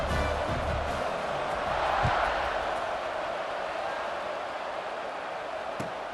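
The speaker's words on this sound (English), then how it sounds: "this crowd is buzzing after that last score" In College Football 26, a video game, a stadium crowd keeps up a steady, distant roar after a score, a broad even murmur with a slight swell partway through.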